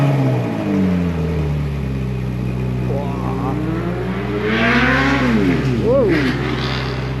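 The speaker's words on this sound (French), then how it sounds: "V8 Atmo, tellement beau ce bruit." A Ferrari 458 Spider's naturally aspirated V8 starts and settles into a loud, close idle, then rises through a couple of sharp revs before falling back. A person exclaims briefly over it.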